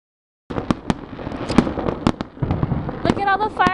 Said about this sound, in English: Look at all the fireworks, Joe.